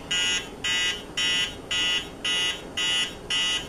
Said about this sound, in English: The alarm clock is so annoying.